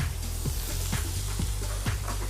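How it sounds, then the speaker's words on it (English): Yellow onions hit hot oil in a pan for fried rice, giving a steady close sizzle with a few soft scrapes and stirs mixed in, and no talking. "Next, you're ready to add your onions."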